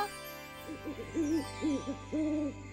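An owl hoots in a children's animal program, giving a string of four or five soft, rising-and-falling tonal calls over a steady low hum, with no voices.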